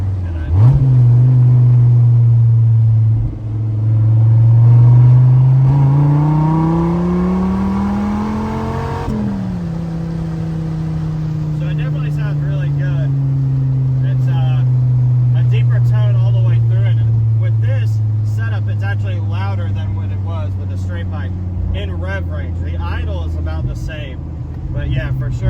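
Car exhaust climbing through third gear, a loud close engine note rising in pitch, dropping with a crack at the shift, then pulling steadily again while crisp pops and bangs crackle from the exhaust.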